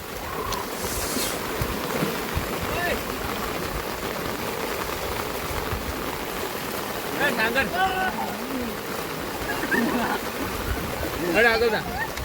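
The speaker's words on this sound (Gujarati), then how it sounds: "પાણી તમે જોઈ શકો છો કેટલું આવે છે. પાણી હજુ વધારે થાય છે." Floodwater rushes past in Rajakot village after heavy rain, near a dam, making a steady, fairly soft broadband wash throughout, with faint distant voices of people playing nearby rising briefly twice.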